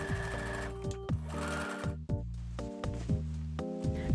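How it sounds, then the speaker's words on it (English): A sewing machine stitches a French seam along the side of a patchwork bag turned inside out, running in several short, close bursts of steady whirring with brief stops between them and no talk. "Flip the bag inside out and sew along that same side with a 5/8 seam allowance, concealing the inner seam."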